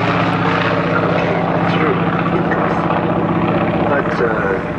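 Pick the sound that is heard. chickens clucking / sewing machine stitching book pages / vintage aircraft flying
vintage aircraft flying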